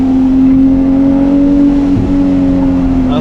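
A 2023 Ferrari 296 GTS with a turbo engine holds a loud, steady droning note that barely changes pitch throughout.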